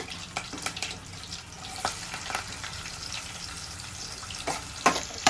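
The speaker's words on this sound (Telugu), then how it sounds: "ఉల్లిపాయ పచ్చిమిర్చి వేసుకున్నాక చక్కగా వేపుకున్నామండి" Chopped onions and green chilies frying in a pan with curry leaves and cumin, a continuous low sizzle broken by scattered crackles and utensil clicks, louder toward the end.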